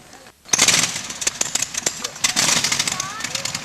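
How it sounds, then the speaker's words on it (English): A WWI-era airplane engine from the 1920s is cranked up at the Rhinebeck, New York air show, bursting abruptly into a loud, rough, sputtering roar with uneven pops, while voices talk nearby. "We're going to crank it up and you give a listen to what it was like in the 1920s."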